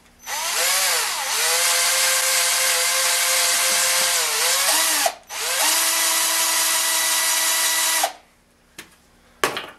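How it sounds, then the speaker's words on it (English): A power drill with a larger bit bores into a wooden dowel for a musket stock, whining loudly and steadily in two long runs separated by a brief pause, then stopping. "I'm going to take this larger drill bit and try to start"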